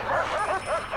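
Dogs bark and yip in quick succession in the prison management game Prison Architect, a steady run of short, whiny barks at moderate volume with no talking over them.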